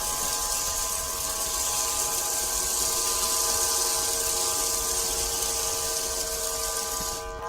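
Electric foam pressure sprayer running steadily, a high whirring motor whine with a hissing spray layered over it, continuous and fairly close, stopping near the end.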